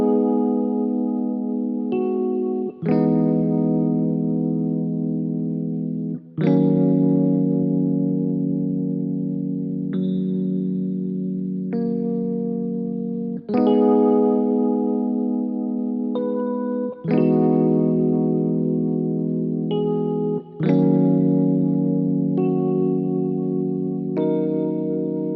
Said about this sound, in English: this is what the chord progression is sounding like